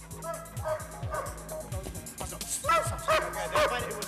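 A dog on board barks and yips in short bursts over several seconds, close by and fairly loud, with people talking in the background amid general commotion.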